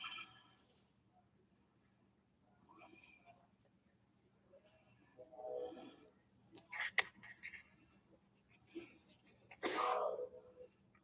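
A quiet indoor scrapbooking session where a person sneezes, with one clear sneeze burst near the end among soft paper rustles and clicks.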